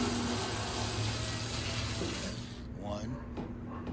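Screws are removed from the rear panel of a Kenmore Elite dryer, giving a close, gritty mechanical grinding with a ratcheting texture that fades into quieter handling noise.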